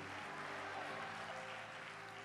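A church congregation applauds during a Spanish-language sermon, a soft, continuous patter of many hands clapping at a distance for a couple of seconds.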